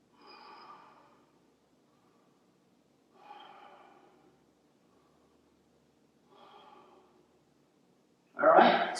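Three slow, deep breaths during a yoga rest in child's pose come as soft, evenly spaced breathy exhales with quiet pauses between them, close to the listener, before a louder breathy burst at the end.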